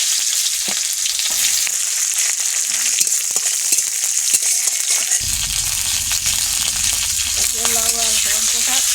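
Chopped onion sizzles in hot oil in a pan with a bright, steady crackle, joined partway through by lower clattering and stirring noises, close up with no talking.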